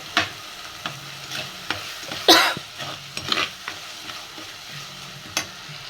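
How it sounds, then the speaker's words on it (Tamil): Ingredients for a stingray fish curry are sautéed in a pan, producing a low, steady sizzle with sharp spoon taps and scrapes at irregular intervals and one louder clatter, all close and without speech. "நல்லா வதங்கிட்டுருக்கு"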